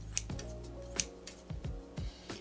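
A Xuron hand tool for crafters, a springless scissor-style cutter, is worked open and shut by hand, giving several crisp clicks and snaps at an uneven rhythm, close up, with a faint hum behind and no talk.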